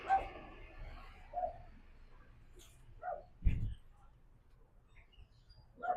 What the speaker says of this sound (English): there's a dog barking at you